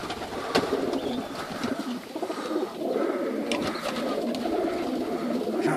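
Pigeons coo steadily inside a narrow sea cave arch at Kingsgate, their soft, overlapping calls echoing continuously for several seconds with no talking.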